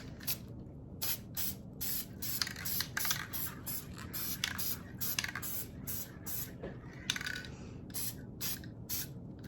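Short bursts of glitter spray hiss from an aerosol can onto a pine cone for a fall craft, repeated rhythmic puffs with quiet gaps, close and fairly soft, with no talking.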